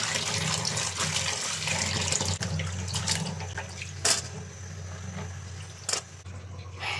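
Cut potatoes, eggplant and beans are washed in water at a kitchen sink, with running water and soft splashing, along with a few sharp clinks and a low hum.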